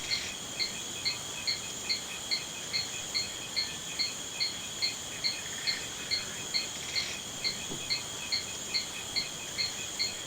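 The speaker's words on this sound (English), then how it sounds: "The repeating sounds of crickets and animals and things of the sort" Crickets chirp in a steady repeating pulse, about two per second, from the jungle ambience of the video game Amerzone: The Explorer's Legacy, a constant mid-level loop with no voices.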